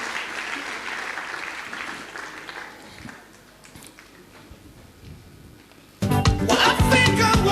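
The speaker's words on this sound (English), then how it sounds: "A round of applause for them whilst you do that." An audience at the Tony Elumelu Foundation Forum applauds the panelists and moderator with a steady wash of clapping that thins out before a sudden, louder burst of music takes over near the end.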